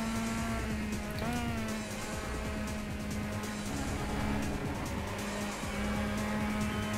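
A race car engine drones steadily while the throttle is worked around the last corner of a circuit during a race. The sound is distant and fairly faint, with slight pitch wavers and some tire noise, and no one speaks.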